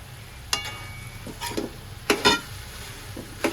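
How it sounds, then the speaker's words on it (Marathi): Spoon or spatula stirring and tossing cooked rice with spinach in ghee for green vegetable pulao, with scattered scraping clinks against the pan over a soft low sizzle, no talking. "आता आपण हे सारं छान परतून घेऊया"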